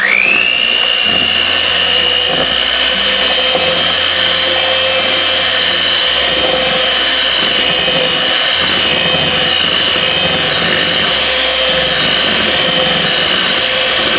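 A hand mixer runs steadily as it creams butter and molasses for gingerbread cookie dough, giving a loud, continuous electric whine that holds for the whole stretch with the beaters churning underneath and no talking.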